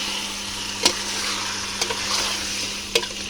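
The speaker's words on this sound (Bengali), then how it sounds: "মাছ কিন্তু খুব হালকা হাতে নাড়তে হয় তা না হলে কিন্তু ভেঙে যেতে পারে" Pangas fish cooked directly in a pan without prior frying, with a steady sizzle under a few sharp scrapes and knocks as it is gently stirred.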